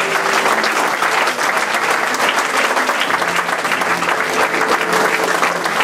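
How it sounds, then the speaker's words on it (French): A church congregation claps and cheers for Jesus, dense sustained applause filling the room steadily for several seconds without a break. "Est-ce qu'on peut acclamer pour Jésus?"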